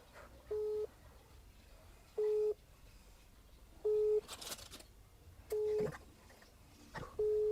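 A telephone ringback tone repeats in regular short beeps about every one and a half seconds, steady and clear over faint background noise, on a call to an inactive number in Indonesia.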